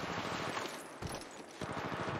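Rapid automatic gunfire rattles in Apex Legends Mobile, dense bursts of shots with a short lull in the middle before the firing picks up again.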